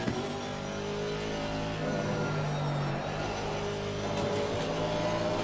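An Aston Martin AMR V8 race car engine in Assetto Corsa Competizione drones steadily under throttle at Kyalami, a loud, continuous close-up engine note with slight pitch rises as it accelerates, no voices.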